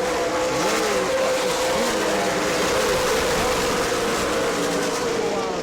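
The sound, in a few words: race cars racing at New Smyrna World Series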